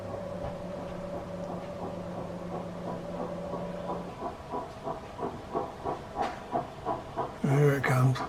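A steam train on the West Somerset Railway draws near with steady rhythmic chuffing that grows louder, ending in a loud burst of hissing steam close by.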